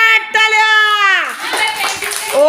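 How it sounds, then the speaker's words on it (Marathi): Children clap hard in a classroom word game: a burst of quick, scattered hand claps follows a child's drawn-out voice and carries on to the end. "जोरात टाळ्या."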